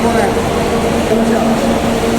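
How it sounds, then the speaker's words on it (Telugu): Steady low hum inside a moving KSRTC Swift Gajaraj AC sleeper bus, with a constant engine drone and faint rattle throughout, no clear talk. "ఏసీ స్లీపర్ బస్సులో మనం"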